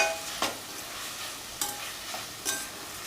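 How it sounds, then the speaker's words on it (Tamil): Medium-sized tomatoes sauté in a pan for spicy semiya biryani, a steady soft sizzle with a few sharper stirring scrapes, close and alone without talk. "இந்த தக்காளி நல்லா வதங்கட்டும்."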